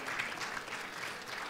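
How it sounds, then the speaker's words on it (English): Applause from a town hall audience at an emergency preparedness forum, a dense steady patter of clapping that holds evenly through the short stretch with no voices over it. "Give him a big round of applause"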